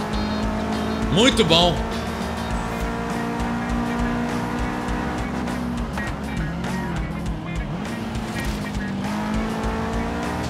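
A Subaru WRX STI races in Forza Horizon 4, its engine droning loud and steady with a sharp rising tire squeal near the start, while someone talks briefly over the racing.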